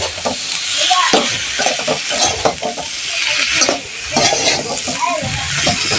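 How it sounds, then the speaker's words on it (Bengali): Eggplant cooks in a pan with a loud, steady sizzle, broken by frequent stirring scrapes and clacks close by. "এই বেগুন রান্না করব"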